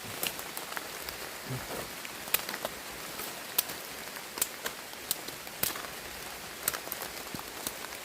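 Heavy rain falls steadily through a bamboo forest where bamboo shoots are being foraged, a constant wash of noise broken by distinct close drops tapping on leaves and surfaces at irregular intervals.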